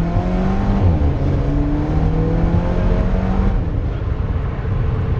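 Lotus Exige S V6 engine pulling on light throttle while driving, a steady close mid-cabin hum with rising and falling tonal harmonics and no talking.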